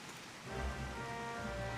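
Steady rain patters in the fantasy MMORPG Final Fantasy XIV, a soft even hiss of falling drops with a low rumble swelling slightly partway through, moderate and continuous with no voices.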